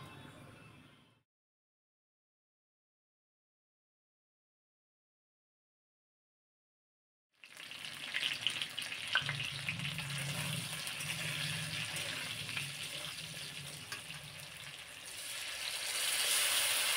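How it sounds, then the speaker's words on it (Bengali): Dried chilli, bay leaf and whole cumin sizzle in hot oil, a steady, fairly loud crackling hiss that starts abruptly after a stretch of near silence and grows stronger toward the end. "এখানে আমি একটু শুকনো লঙ্কা, একটু তেজপাতা, একটু দিয়ে দেব গোটা জিরে ফোড়ন"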